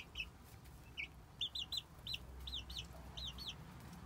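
Several chicks (poussins) peep in quick, high, repeated chirps while eating melon, the calls coming in bursts and pairs over a low background rumble at moderate distance.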